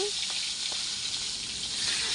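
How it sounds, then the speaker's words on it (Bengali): A fish head fries in hot oil in a kadai, a loud, continuous close-up sizzle and hiss that holds steady throughout the short stretch. "কড়াইটা গরম হলে তেল দিয়ে মাছের মাথাটা খুব ভালো করে ভেজে নেব।"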